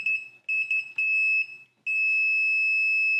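A continuity tester beeps with a steady high tone as its probes touch furnace thermostat wires of the same color. Several broken bursts come first, then one long continuous beep, loud and close.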